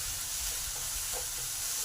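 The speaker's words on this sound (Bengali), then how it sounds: "টমেটোটাকে ভালো করে 2 মিনিট নেড়ে নেবো, যাতে টমেটোর কাঁচা গন্ধটা চলে যায়" Chopped tomatoes frying in a pan while being stirred, a steady close sizzle and hiss with faint scraping, with no talking.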